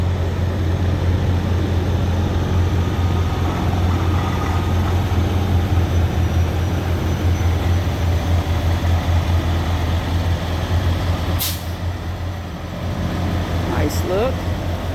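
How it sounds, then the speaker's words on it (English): A clean Kenworth semi truck pulling out of truck stop parking gives a steady low engine rumble, close and constant, with a brief hiss near the end. "We got us a Kenworth coming out of parking"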